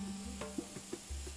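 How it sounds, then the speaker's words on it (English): Tomato goes into a pan of green and red peppers and onion on the stove, giving a quiet sizzle with a few soft stirring scrapes and light knocks, no talking. "Now we're going to add in our tomato."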